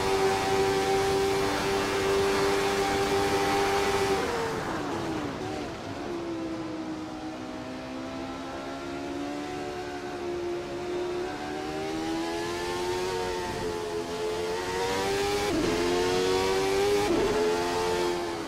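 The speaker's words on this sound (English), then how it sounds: "That Jordan Ford 191 looks good driving through Rivage." Jordan Ford 191 Formula One race car in a racing video game at Spa, its engine screaming loud and steady with rising and falling pitch through gear changes and throttle shifts, heard alone with no talk.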